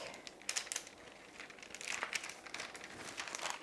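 A sheet is peeled back from a rolled fathead pizza crust dough about a quarter inch thick, giving faint, close crinkling and crackling rustles in uneven bursts, with no one talking.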